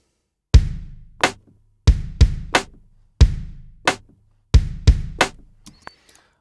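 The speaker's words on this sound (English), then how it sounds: "Let's add the snare drum" Punchy drum hits in a music production session, likely a kick-and-snare pattern: sharp percussive strikes in a loose repeating rhythm with short decays and silence between, loud and close with no talk.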